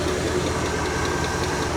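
The engine of a 1964 Comet car runs steadily nearby, a constant mid-pitched hum with a faint rhythmic knock and no voices over it.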